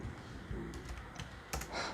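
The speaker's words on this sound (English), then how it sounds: "Here I am typing dir" Quiet keystrokes on a computer keyboard at a Windows command prompt, a few scattered taps followed by a quick cluster of clicks over low room noise.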